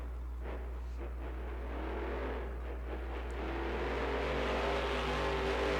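Monster truck engine revving hard during a freestyle run at Snapdragon Stadium in San Diego, a steady loud roar that builds slightly toward the end.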